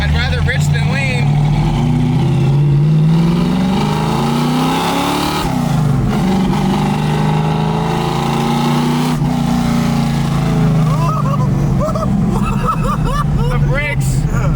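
A supercharged 1965 Ford Mustang with a rich-running engine and bad brakes revs loudly while driving, its engine note rising and falling steadily under occasional talk.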